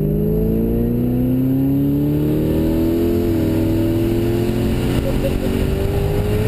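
Twin-turbo Saleen Mustang making over 1000 rear-wheel horsepower accelerates under boost from inside the cabin: a loud, steady engine drone climbs in pitch over several seconds, with a high turbo whine above it.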